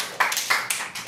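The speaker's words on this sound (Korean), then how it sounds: "박수." A handful of quick, sharp hand claps sound in a lecture room, four crisp bursts in a steady rhythm.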